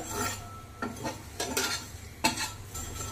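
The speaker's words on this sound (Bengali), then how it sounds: "মশলাটাকে একটু লো ফ্লেমে ভালো করে ভেজে নেব।" Spice masala stir-fried over a low flame in a pan for a spicy Bengali chicken dish, with soft sizzling and several scraping strokes of a spatula against the pan, close and fairly quiet.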